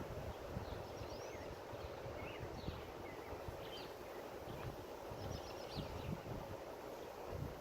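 Strong wind buffeting a microphone outdoors, a constant low rumbling roar with faint birdsong chirping in the distance, no voices.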